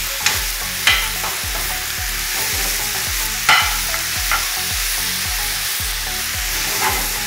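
A spoon stirs okra bhaji frying in a pan, scraping in a steady repeating rhythm over a constant close sizzle, with a few louder clanks against the pan.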